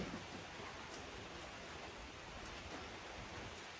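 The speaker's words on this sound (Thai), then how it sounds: "ฝนตกครับ" Steady, soft rain hisses evenly throughout, a constant wash of falling water with no voices or other distinct sounds.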